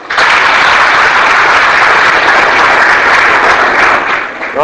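Students in a communication skills class clap together in a loud, sustained burst of dense, even hand clapping that holds steady for several seconds before easing slightly at the end.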